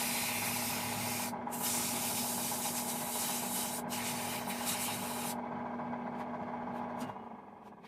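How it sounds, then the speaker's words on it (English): 80 grit sandpaper is pressed against a wooden footboard leg spinning on a lathe, making a steady close rasping hiss over a low motor hum. The rasp cuts off near the end while the motor winds down. "I think I'm going to try to hit it with some sandpaper now"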